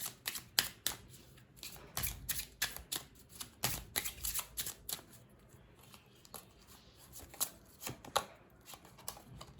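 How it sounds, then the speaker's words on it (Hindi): Tarot cards being shuffled and drawn make a rapid run of crisp, close snapping and riffling clicks in irregular bursts, fairly quiet, with no voice over them. "हम कुछ कार्ड्स निकालते हैं"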